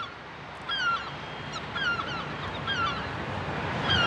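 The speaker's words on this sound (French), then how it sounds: "Des goélands." Gulls near a rooftop chimney nest above Paris by the Montparnasse tower give repeated, hoarse, descending calls at a moderate distance, recurring roughly every second over a steady background of city noise.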